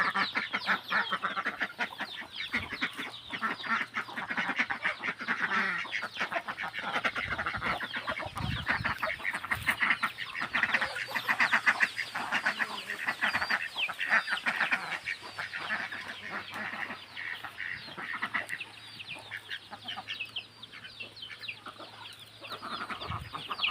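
Many ducks quack continuously among clucking chickens on a farm, a dense, busy chorus of overlapping calls close by, steady for the whole stretch.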